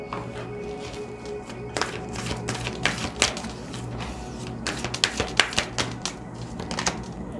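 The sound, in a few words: drawing an advice card from a tarot deck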